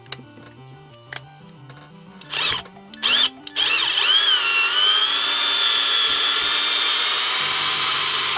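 A power drill whirs up through rising speeds in short bursts while working on a Commodore 64 Mini controller, then runs loud and sustained at high speed, close by.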